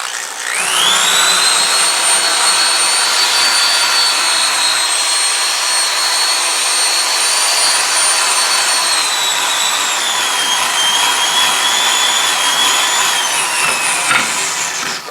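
A high-speed rotary shaping tool whines steadily as it works over an English walnut HW80 air rifle gunstock with light pressure, a loud continuous pitched tone that drifts slightly in pitch as the cut varies.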